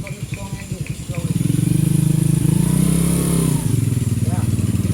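A motorcycle engine at a dealership in Vietnam idles with a rapid, lumpy putter, then revs up into a louder, steady drone before settling back, close by, while people talk nearby.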